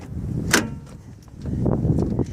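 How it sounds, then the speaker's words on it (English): Rear-hinged suicide door of a 2005 Honda Element EX wheelchair SUV opening, a sharp latch click followed by a rumbling swing and soft knocks, close and moderately loud. "had to make sure the door was unlocked. As you can see, opens right up."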